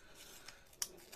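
A single crisp snip of scissors cutting paper, short and close, after a faint rustle in an otherwise quiet room.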